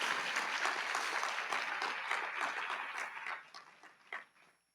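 Audience at a Champions for Change 2024 awards event applauds the sponsors with steady, dense clapping that fades out over the last second or so, with no speech.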